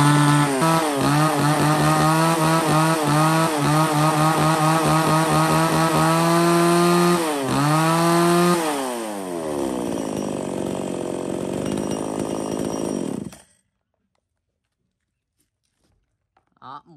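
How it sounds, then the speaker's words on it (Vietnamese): A used Japanese-made mini chainsaw runs loudly at close range, its two-stroke engine droning and revving in wavering pulses before dropping to a rougher idle and cutting off abruptly, followed by near silence. "một con máy cưa mini cho anh em, hàng của Nhật bãi anh em nhá"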